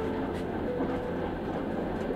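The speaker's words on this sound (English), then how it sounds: "The train, a comforting presence," A train sways along a narrow-gauge forest railway with a steady, close rumble, a constant low roll and rattle running unbroken throughout.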